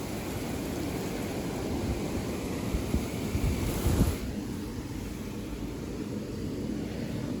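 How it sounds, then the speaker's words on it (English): Strong wind roars steadily through trees during a heavy rainstorm that is bringing down branches and power lines, a dense broadband rush with a louder gust near the middle, no voices. "is so windy out right now."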